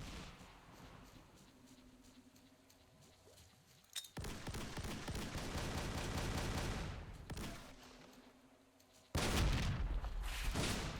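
Video game grenade explosions in Fate of the Zone: a quiet stretch with faint crackling gives way to sudden loud bursts, long rumbling blasts and a final heavy boom near the end.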